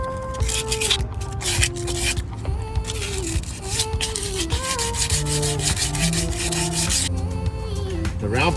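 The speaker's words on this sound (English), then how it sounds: "Sandpaper. Gotta sand down a little bit." Wood is sanded by hand with sandpaper in quick, repeated rasping strokes, close and steady with brief pauses between bursts.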